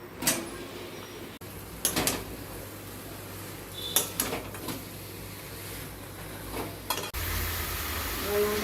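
Chicken pieces dropped into spiced masala frying in oil for chicken kosha, giving a steady sizzle with intermittent stirring scrapes and clanks of the utensil against the pan.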